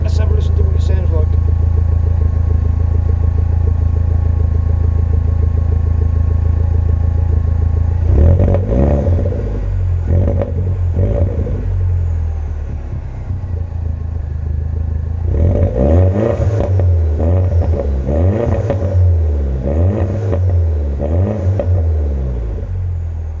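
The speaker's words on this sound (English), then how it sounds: "I'm just gonna give it a quick rev." A Mini Cooper S R56 engine heard from the rear of the car idles steadily, then is revved in two bursts up to about 3,000 rpm, loud and close, with a person speaking over part of it.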